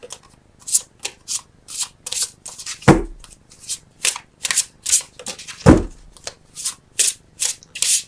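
Tarot cards are shuffled by hand close up in a steady rhythm of brisk rubbing riffles, with two heavier taps as the deck is squared.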